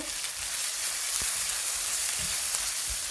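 Ginger garlic paste fries in oil in a pan with a continuous moderate sizzle and faint crackle, plus a few soft stirring knocks. No voices.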